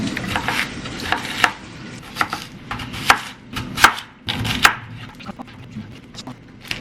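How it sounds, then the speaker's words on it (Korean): Onions, garlic and green onions being chopped on a cutting board by hand, a steady run of sharp knife strikes close by with uneven rhythm and no talking. "야채를 손질을 좀 미리 해놓으려고요. 양파랑 마늘이랑 파."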